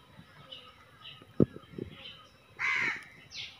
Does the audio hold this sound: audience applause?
no